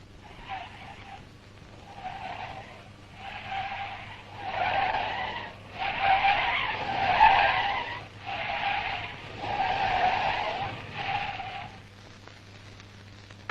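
A car brakes hard on a Soviet-era test track, tires squealing in a series of pulsing bursts that swell and fade across the whole stretch, with no voices.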